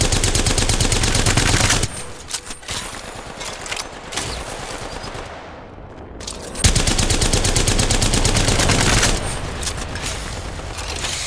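Long automatic gunfire bursts from the Apex Legends video game, loud and close, with a brief lull mid-way before a second sustained volley.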